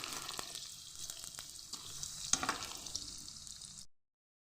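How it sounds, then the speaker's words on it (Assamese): Close, continuous sizzling of onions frying in mustard oil in a wok, with faint crackles and spatters, lasting a few seconds before cutting to silence. "মই পিঁয়াজখিনি এনেকৈ অলপমান ভাজি ল'ম"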